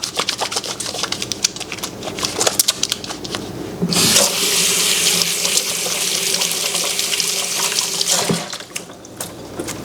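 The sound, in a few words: water running from a tap while washing hands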